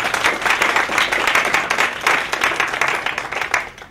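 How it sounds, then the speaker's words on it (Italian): An audience claps in warm, dense applause at a live stage event, steady and sustained with slight swells, close and loud. "Bene, un applauso, grazie mille."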